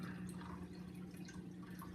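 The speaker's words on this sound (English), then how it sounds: "Alright, tipping them into the water." Small tetra fish tipped from a bag or container into aquarium water, a steady soft trickle and dripping of water that continues evenly throughout, close by and fairly quiet.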